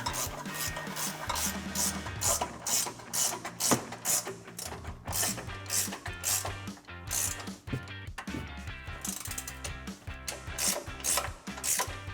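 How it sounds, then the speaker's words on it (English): Ratcheting wrench with a 17mm socket tightening nuts on a truck leveling lift kit, rapid clicking ratchet bursts repeating in an uneven rhythm throughout, close up with brief pauses between strokes. "Then grab your 17mm socket, or we're using a ratcheting wrench."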